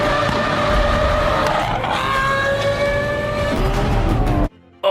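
Lamborghini Aventador SVJ with its 770-horsepower naturally aspirated V12 revving loud and close, engine pitch sweeping up and dropping through a gear change before the sound cuts off abruptly.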